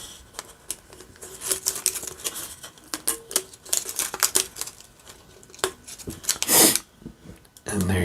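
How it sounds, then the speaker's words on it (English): Shrink wrap label being cut and peeled off a beer can, a close series of crinkly plastic rustles, snips and scratchy tearing that comes in bursts, with a sharper rip near the end. "It's easiest to just cut it. And gently peel it away from the cut."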